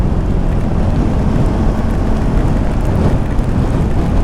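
Steady heavy rain pours down on the Mumbai–Goa Highway (NH 66) near Kankavli, with a constant broadband roar, wind buffeting the microphone throughout, no voices.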